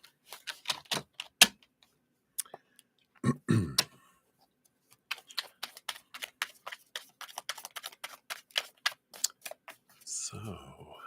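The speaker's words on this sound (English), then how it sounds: "Let me shuffle one more time here." Tarot cards being shuffled by hand, giving quick bursts of papery riffling clicks and flutters in several runs with short pauses between them, close up and fairly quiet.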